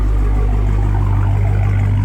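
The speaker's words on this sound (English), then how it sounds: "This car has such a nice exhaust note to it." Dodge Charger Hellcat with a supercharged engine idling nearby, a loud, steady low exhaust rumble that holds constant throughout without revving, no talk.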